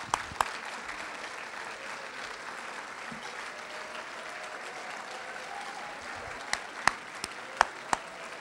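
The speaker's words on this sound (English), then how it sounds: "let's give them a great round of applause" Standing audience at a women business owners' event applauds board members, with steady, fairly distant clapping and a few sharper nearby claps standing out.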